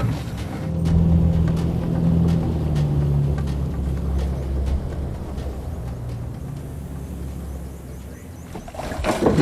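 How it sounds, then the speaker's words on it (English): Low motor drone of a boat moving along on water, steady then easing off, with faint splashes and no talking. "the men move the boat into position."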